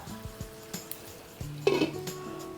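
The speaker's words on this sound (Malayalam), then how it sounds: "ഇത് നമുക്ക് മൂടി വെക്കാം" A metal lid is set onto a pot of Kerala choora fish curry, a few light clinks and taps of metal on metal, then a brief louder clatter as it settles, quiet and close with no talk.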